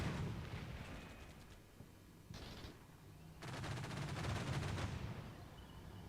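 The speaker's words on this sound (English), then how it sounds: "Chain guns and 120 millimeter tank rounds are exploding into this building." Chain-gun bursts and 120 mm tank rounds exploding into a building in Combat Mission: Shock Force 2, distant rolling rattles and blasts in several loud waves separated by quieter gaps.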